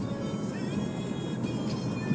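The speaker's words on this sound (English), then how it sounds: "You can actually tell when the vehicle actually decided to take off" A Mercedes-Benz C-Class compact sedan pulls away hard from a stop, heard from inside the cabin as a steady, fairly loud engine and road drone with a faint rising whine and no talking.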